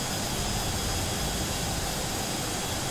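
Steady, loud jet engine roar from a Douglas DC-8 taxiing in a flight simulator, a dense unbroken hiss and rumble with no voices or changes.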